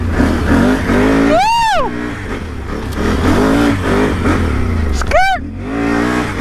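An off-road truck drives a mud trail in a mud park, its engine revving hard under throttle in a loud, continuous, close roar with two sharp rising-and-falling surges, while people shout briefly over it.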